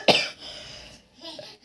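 A single sharp cough close by, followed by a faint breathy sound and a brief vocal murmur.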